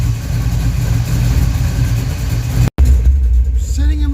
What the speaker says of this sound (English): Sitting in my car in the driver's seat with the engine running.